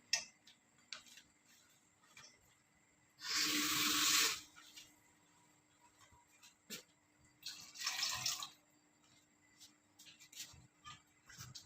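Water pours into a pot of whole masoor lentils for a dhaba-style dish in two short, splashy bursts about four seconds apart, close and clear over a quiet kitchen background.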